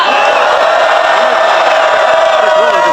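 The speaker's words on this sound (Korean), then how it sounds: "여러분, 박수를 부탁드립니다." Large rally crowd at a candlelight protest calling for President Yoon Suk Yeol's resignation, a steady dense roar of cheering and applause with scattered whoops, loud and continuous throughout.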